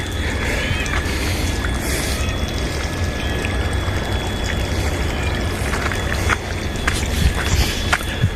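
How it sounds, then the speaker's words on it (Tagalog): Water runs and splashes continuously in an outdoor garden with mustard greens, a steady close rushing flow with faint trickles and footsteps through it. "Daming tubig oh."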